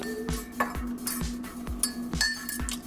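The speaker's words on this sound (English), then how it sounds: "I'm gonna stir it up." A metal spoon stirs tea mixed with CBD oil in a cup, giving repeated bright clinks against the ceramic at an even, quick rhythm, close and clear.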